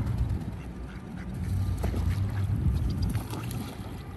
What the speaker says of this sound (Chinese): 连鸭子都知道这里舒服， 一排排都蹲在这儿。